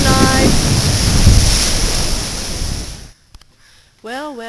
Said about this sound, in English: The waves are so nice.